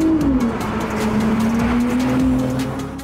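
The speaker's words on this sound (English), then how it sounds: "Wake up the engine and really have a blast." A Ferrari 296 GTS on a mountain drive up to the Himalayan foothills revs hard, its engine note dropping and then holding a loud, sustained whine close to the microphone, with no talk.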